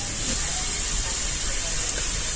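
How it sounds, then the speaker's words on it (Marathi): Fenugreek greens dropped into a hot oil tempering of cumin, garlic, green chilli and peanuts, producing a loud, steady, close sizzling hiss that holds without a break. "तर आता आपण भाजी फोडणीला घालून देऊया"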